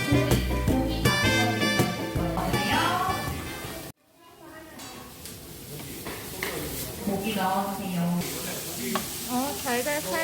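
Meat sizzles and is stirred in a hot pan during a kids' cooking class making meat pie, with steady frying crackle and utensil scraping while people talk over it.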